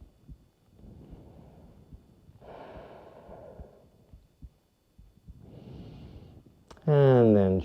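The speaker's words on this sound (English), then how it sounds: "Take another breath or so here." Slow, deep breaths during a held yoga pose come in soft, separate waves of inhaling and exhaling, close and quiet, before a brief louder voiced sound at the end.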